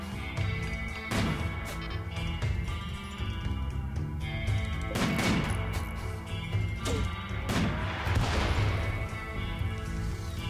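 Mortar rounds firing in the colony-building game Rimworld, a desert map, with several loud booming impacts and crashes recurring over a dense game soundtrack.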